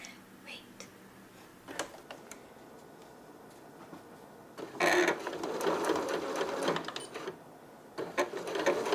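Sewing machine running a 1/4 inch seam on a fabric scrunchie, a short steady whirring run in the second half, preceded by quiet clicks and handling noises.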